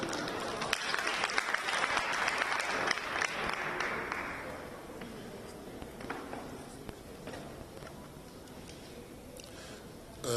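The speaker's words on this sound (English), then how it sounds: "Can you give him a round of applause?" An audience at a Coffee with a Cop community gathering in Gauteng claps for a speaker, a fairly distant crowd applause that is dense at first, then thins and fades to scattered claps.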